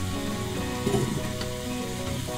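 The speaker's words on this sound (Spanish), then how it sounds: "le agregamos el solomillo para sellarlo" Pork tenderloin searing in a pan with softened onion, a steady close sizzle and frying crackle with a brief stir in the middle.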